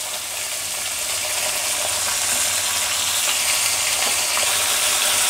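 Cluster beans (guar phali) sizzle in hot oil in a home kitchen pan, a steady, dense frying hiss that stays loud and even throughout with a faint low hum underneath.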